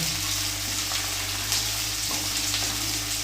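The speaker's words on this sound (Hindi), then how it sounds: "चलिए, हरी मिर्ची हल्के से फ्राई करेंगे" Green chilies frying lightly in hot oil in a pan over a high flame, a dense, steady, close sizzle with a low hum underneath and no talking.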